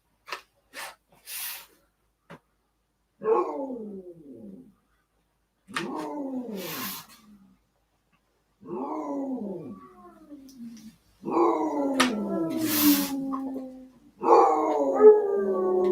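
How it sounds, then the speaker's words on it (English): Several dogs howling in long, wavering bursts with pauses between, some overlapping, rising and falling in pitch, heard at moderate distance over a quiet backdrop. "Listen to the dog ambiance in the background. They howl all the time."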